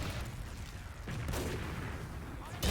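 A competitive Team Fortress 2 match carries a few sharp gunshot bangs, including a sniper rifle shot, over a busy game background while a commentator talks.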